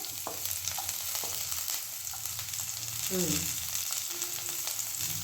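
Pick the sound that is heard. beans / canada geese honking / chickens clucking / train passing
beans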